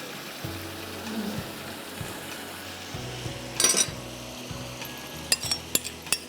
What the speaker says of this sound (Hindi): और ये शैलो फ्राई हो रहा है फ्राई पैन में।